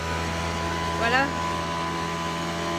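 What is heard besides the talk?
landscapers' leaf-clearing machine noise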